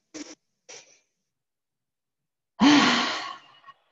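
Deep breathing during an adult yoga class: two short, soft breaths near the start, then after a pause a long, loud, sighing breath up close that fades out.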